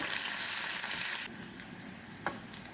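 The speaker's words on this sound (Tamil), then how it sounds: "நல்லா ப்ரௌன் கலரில் மாறணும், அந்த அளவுக்கு நல்லா வதக்கிப்போம்" Onions sautéing in oil for sambar until brown, a loud bright sizzle for about a second that then drops to a quieter simmering crackle with a few small clicks of stirring.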